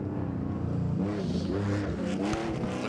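A Porsche rally car drives a stage at Goodwood, its engine loud and steady with rising revs and throaty, rough harmonics throughout, no voices over it.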